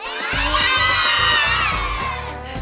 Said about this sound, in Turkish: Hurmalar hayır diye bağırıyor Zeytin'e